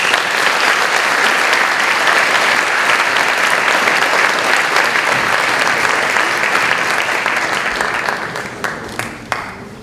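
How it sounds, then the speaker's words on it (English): An audience at a school heritage day ceremony breaks into loud, dense applause that holds steady, then thins into a few scattered claps at the end. "can we please give him a round of applause for his accomplishments?"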